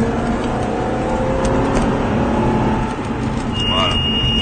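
An Aston Martin accelerating hard on a driving-course track, a steady loud engine roar heard from close by, with faint talk in the background.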